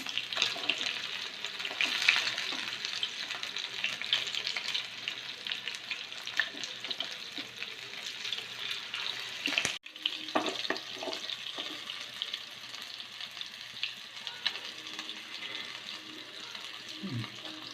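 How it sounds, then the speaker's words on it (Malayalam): Chicken 65 pieces deep fry in hot oil with a continuous bright sizzle that runs throughout, briefly interrupted midway as pieces are turned, followed by a few scraping and clinking sounds. "ഇനി നമുക്ക് തിരിച്ചിട്ടിട്ട് മറ്റേ സൈഡും കൂടി ഫ്രൈ ചെയ്തെടുക്കാം."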